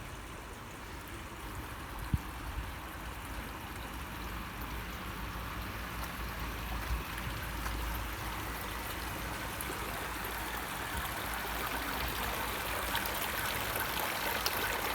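Continuous gentle trickling and splashing of water from a garden fountain, steady and close, with no talking.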